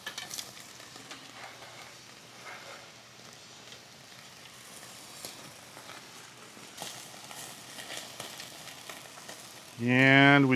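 Akaushi Wagyu ribeye steak searing over open flames on a grill, a steady, moderately quiet crackling sizzle running throughout, ending with a sudden loud burst of a rising electronic tone.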